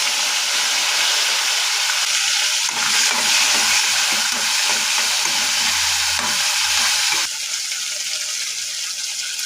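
Tomato pieces and green chillies frying in a pan with coriander seeds, a dense, bright sizzle with stirring scrapes in the middle stretch that eases slightly near the end, close and continuous without speech.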